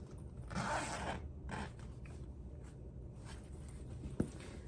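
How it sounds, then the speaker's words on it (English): A bag zipper is drawn open or shut in a few quick, rasping pulls. The sound is faint and close in a quiet room, with no talking. "This one is a zipper."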